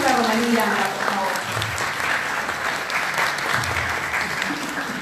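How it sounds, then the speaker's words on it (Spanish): A seminar audience at a Spanish-language round table applauds a speaker being welcomed; the sustained, fairly loud clapping is joined by someone talking over it at the start and again near the end. "recibámonos con un fuerte aplauso a la doctora Úrsula Romaní Miranda, por favor"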